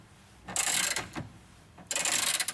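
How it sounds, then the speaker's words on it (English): A 20mm socket works loose the rear mount carriage bolt on a VW IRS transaxle, two bursts of ratcheting, scraping metal clicks close by, split by a brief quiet pause. "this is a 20mm socket to get this off"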